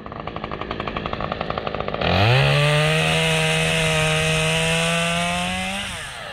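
A chainsaw running on old non-ethanol fuel sputters unevenly at idle, then revs up to a loud, strained drone that holds and falls off, running rough and close.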